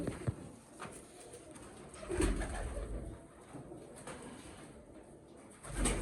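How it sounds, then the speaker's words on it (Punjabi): Vaishi pigeons on a rooftop loft give low, soft coos against a faint outdoor background, with a few louder bumps and rustles breaking the quiet. "ਇਹ ਵੈਸ਼ੀ ਕਬੂਤਰ ਹੀ ਨੇ"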